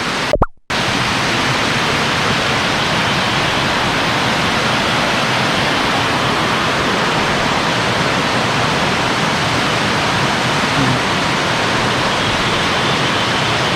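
A waterfall roars beside a temple set in the middle of a stream at Mae Kampong village, Chiang Mai: a loud, steady, close wash of rushing water that fills the whole clip after a brief dropout at the start.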